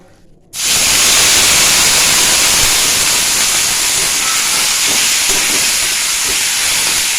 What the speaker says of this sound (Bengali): তেলটা গরম হয়ে গেছে, এবার গুগলিগুলো একটু ভেজে নেব।